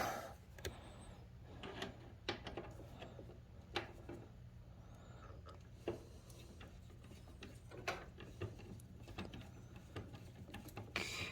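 A ratchet undoing a bolt on a greasy BMW N55 engine during an alternator replacement, with quiet, close clicking pawl strokes repeating in irregular bursts.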